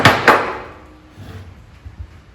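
Two sharp hammer blows on metal ring out in quick succession, then fade, followed by a few softer, duller knocks, while building a shrinking stump for metal shaping.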